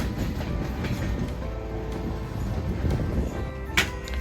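A passenger train between Bishnupur and Purulia rumbles along the rails nearby, its wheels clattering in a steady rhythmic beat.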